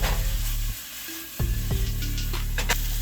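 Cabbage fries in butter in a pan, a close, steady sizzle broken by a short quieter moment and a few sharp scraping knocks of a utensil stirring.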